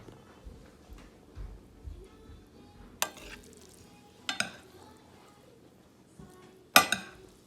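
Long grain rice pilaf stirred in a pan, with soft scraping and a few sharp clinks of a utensil against the pan over faint sizzling, close and fairly quiet.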